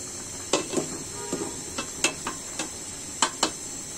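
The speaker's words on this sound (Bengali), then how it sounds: "নাড়াচাড়া করে দিতে হবে যেন তলাটা ধরে না যায়।" Stirring lentil dal in a cooking pot: a spoon scrapes and knocks against the pot in about eight short, distinct strokes over a faint background hiss, close and fairly quiet.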